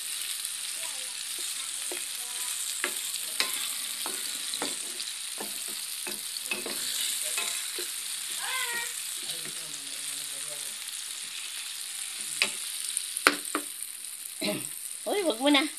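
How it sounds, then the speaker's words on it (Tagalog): Chopped tomatoes sizzle softly in a pan for squid adobo, with intermittent clinks and scrapes of a utensil stirring and a few faint voices nearby. "Isotay lang po natin hanggang sa madurog talaga yung kamatis."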